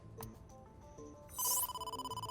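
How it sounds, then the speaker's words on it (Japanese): A telephone rings in the video game AI: The Somnium Files – Nirvana Initiative, starting with a short bright chime and then a steady pulsing ringtone of rapid repeated trills over faint background music. "Mizuki, you have a call."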